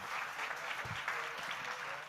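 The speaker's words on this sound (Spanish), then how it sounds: "Un aplauso para los panelistas, por favor, para que se retiren" At a digital health forum in Colombia, the audience applauds the company panelists as they leave the stage, a steady moderate wash of clapping throughout with a brief murmur of voice.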